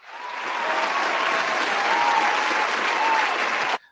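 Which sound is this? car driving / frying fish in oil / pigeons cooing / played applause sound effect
played applause sound effect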